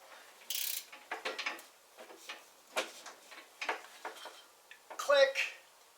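Torque wrench tightening bolts on a Sears Craftsman riding mower, giving a string of short ratcheting clicks in irregular bursts up close, with a voice heard briefly amid the mechanical sounds.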